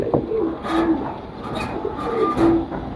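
Pigeons from a pair in a breeder's collection coo softly and repeatedly at close range over a steady low background rumble, with no one talking.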